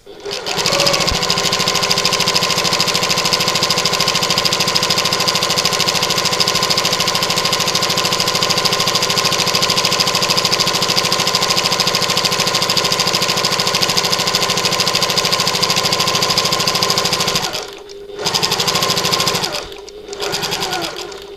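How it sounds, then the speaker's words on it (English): Domestic sewing machine running fast and steadily while stitching a button lock bag, loud and close, with a continuous motor whir that stops briefly twice near the end. "Now you don't have to sew as fast as me, okay?"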